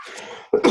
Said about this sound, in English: I'm still dealing with this cough and I did not hit mute.